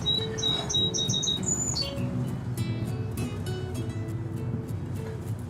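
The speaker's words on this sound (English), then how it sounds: "the birds singing" Small birds chirp and trill in a garden among flowers, a run of bright repeated tweets early on, then scattered calls over a steady low background hum.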